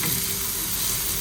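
Chopped onion and green chili fry in oil in a pan for egg paratha, giving a close, steady, dense sizzling hiss with no break and no speech.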